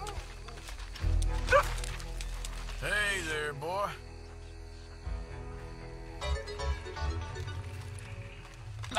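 A dog in the video game Red Dead Redemption 2 gives a few near yips and whimpering barks in short bursts over a low ambient game hum, with no talk.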